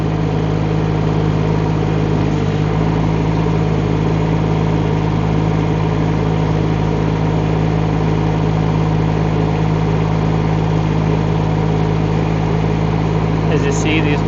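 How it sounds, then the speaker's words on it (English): A Rippa R18 mini excavator's engine runs steadily at a constant droning idle while the side boom swings, a loud continuous hum with no sharp changes, a brief higher squeak near the end. "now let's try our side spin boom"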